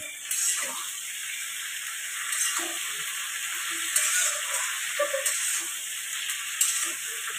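Cabbage frying in a pan while cooking a pabda fish latpati dish, a steady bright sizzle with occasional soft clinks and stirring knocks, close and continuous.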